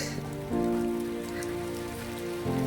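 Steady rain pattering on a surface during a fort trek, with a constant broadband hiss, moderately loud and close, with a low sustained hum running underneath.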